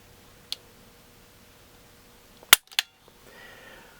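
A Walther P99 9mm pistol's trigger is pulled through its heavy full-pull stroke, giving a single sharp dry-fire click, then a quick pair of clicks from the action being reset, all close up and otherwise quiet.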